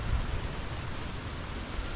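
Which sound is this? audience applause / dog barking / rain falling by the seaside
rain falling by the seaside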